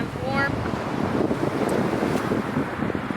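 Strong wind at Deception Pass, Whidbey Island, buffets the microphone in a constant, loud rush of noise, with a faint roar like distant surf underneath.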